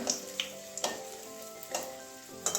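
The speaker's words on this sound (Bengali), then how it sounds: "পাঁপড় তো ভাজলে তো শক্ত হয়ে যায় ওই জন্য খুব বেশি ভাজবো না নাম মাত্র একটু ভেজে নেব এভাবে" Papad fries briefly in hot oil with a soft, close sizzle. A few light taps and clicks from handling in the pan break through the sizzle.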